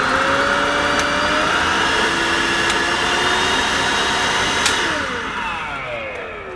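A Miele Triflex vacuum cleaner runs continuously near the listener with a loud, steady motor whine and airflow roar, a few brief clicks, and the level easing slightly toward the end.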